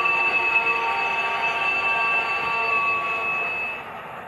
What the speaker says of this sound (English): Wait. Another locomotive.